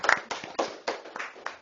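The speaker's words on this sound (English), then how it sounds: "let's give them a big round of applause for that" A small group at a city council meeting gives sparse, scattered applause: a handful of separate, fairly close hand claps spaced irregularly, quiet overall, with no talking.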